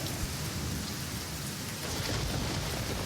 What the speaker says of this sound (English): I apologize for the rain, but it's summertime.